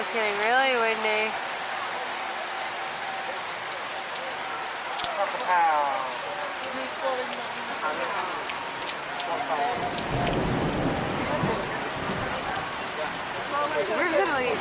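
Heavy rain hammers the open vehicle of the Kilimanjaro Safari ride at Animal Kingdom in Florida, a dense continuous wash lasting the whole stretch, with people talking over it and no distinct thunder standing out.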